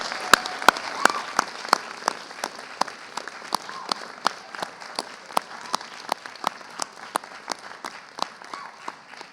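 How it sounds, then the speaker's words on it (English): Graduates at a graduation ceremony applaud their parents, friends and family. The clapping is sparse and uneven at first, with sharp individual claps ringing out in a hall, then settles into a rhythmic, fairly close clap that keeps a regular beat. "So graduates, if you can applaud the parents,"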